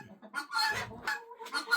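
Several chickens cluck close by near their nesting boxes in a string of short, irregular clucks and squawks.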